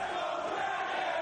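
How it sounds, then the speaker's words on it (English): A large arena crowd at a Ring of Honor professional wrestling match roars in a steady, dense wash of cheering and shouting that holds throughout, with no clear talk above it. "And listen to this crowd."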